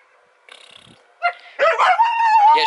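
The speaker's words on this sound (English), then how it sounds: "And now the dog wants to come inside" A dog outside wanting to come in gives a few short yips and whimpers, then breaks into a rising, sustained howl, close and loud, with no talking.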